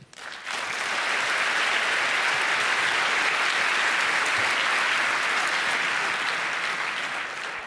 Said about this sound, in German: heißt sie willkommen mit einem schönen Applaus